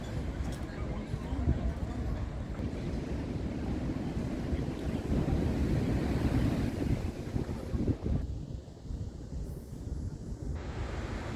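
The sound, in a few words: waves on a black sand beach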